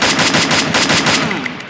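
Automatic gunfire in the Free Fire battle royale game, a loud, close burst of rapid evenly spaced shots that runs for over a second before trailing off into a fading ring.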